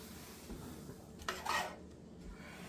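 Spoon spreading tomato sauce across lasagna noodles in a baking dish, giving a short soft scraping smear with light clinks of utensil on the dish, quiet and close.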